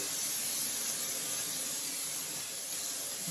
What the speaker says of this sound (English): So a little bit more nonstick cooking spray.